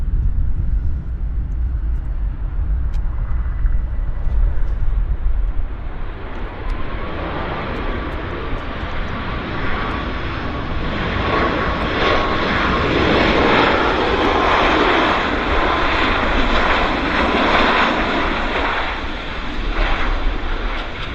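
An airplane lands at Vancouver Airport. Its engine roar swells and holds loud and near for about twenty seconds, and a drawn-out whining tone rises through the rumble partway in.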